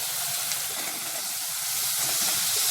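Tomatoes and turnip sauté in a pan for a South Indian vegetable kurma, giving a steady, close hiss of sizzling that holds level throughout with no talking.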